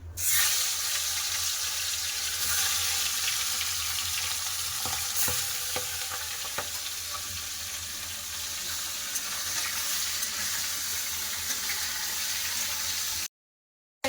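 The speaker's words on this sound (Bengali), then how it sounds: "তেল গরম হয়ে গেছে এবার মাছ ভেজে আগে পোনা মাছগুলো ভেজে নেবো" Rohu fish frying in hot mustard oil in a karahi, a steady broadband sizzle running close and continuous for about thirteen seconds before cutting off abruptly.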